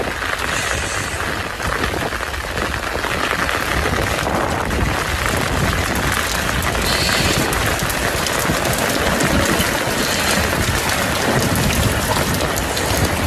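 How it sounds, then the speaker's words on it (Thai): Heavy rain pours down steadily with gusting wind, a dense, loud wash of noise that stays constant throughout with no voices. "จักฝนจักลมเลยนี่"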